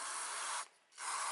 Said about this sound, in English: we're going to use some of this airflow sensor cleaner